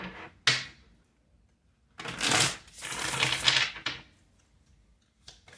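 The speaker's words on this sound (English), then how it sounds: "this will be our last shuffle." Tarot cards are shuffled in a few quick bursts, crisp riffling rasps separated by pauses, close up and moderately loud with no voices.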